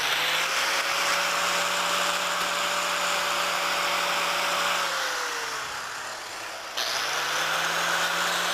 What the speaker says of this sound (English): The grinder, we've removed the cover shield for it just for the filming purposes.